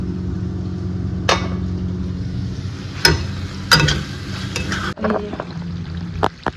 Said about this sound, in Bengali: মশলা কষছে মাংসের, পেঁয়াজ দিয়ে দিয়েছি, আদা রসুন ওটা কষবে।